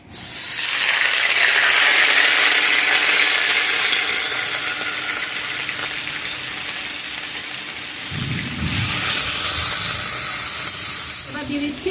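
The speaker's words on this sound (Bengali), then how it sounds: "সর্ষের তেল মশলা কষাবার জন্য দিয়ে দিচ্ছি প্রথমে পেঁয়াজ বাটাটা" Onion paste hits hot mustard oil with a loud burst of sizzling that settles into a steady, rain-like crackle, surging again as more paste is stirred in near the end.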